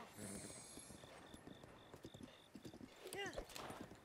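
Horse hooves clip-clop at a steady gallop in the video game The Legend of Zelda: Breath of the Wild, with a whinny near the end and a person talking over the hoofbeats throughout.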